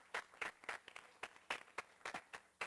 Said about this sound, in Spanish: Le podemos dar un fuerte aplauso al que le ama.